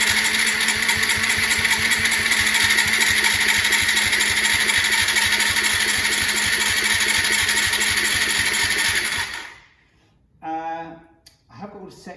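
A Yamaha SR125 motorcycle engine runs loudly with a steady rapid chug for several seconds, then abruptly cuts out into near silence broken by a few faint clanks.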